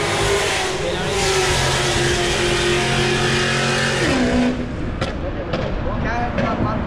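A GMC car revving hard and racing past, with a loud engine roar and a pitch that sweeps as it goes by, then rougher engine noise with a few sharp cracks in an open outdoor setting.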